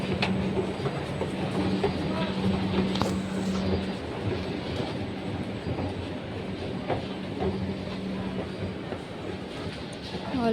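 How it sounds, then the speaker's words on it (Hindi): Delhi-style metro train running on rails at a crowded station, a steady loud rumble with rhythmic rail clatter and a brief high squeal, people talking underneath throughout. "10 मिनट हो गया, फाइनली मेट्रो आ गया।"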